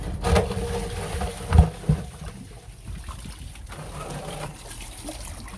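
Water drains out of an in-ground pool filter tank, a low splashing and trickling flow with a couple of heavier gushes early on, then a quieter steady dribble.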